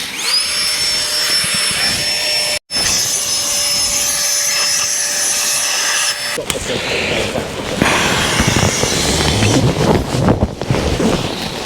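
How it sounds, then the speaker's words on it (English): A Thermarest pump inflating a sleeping mat, heard close up as a loud, steady whirring drone with a high whine for about six seconds, followed by rougher rushing, buffeting air noise. "I don't know why the Thermarest don't do an upgrade on their pump"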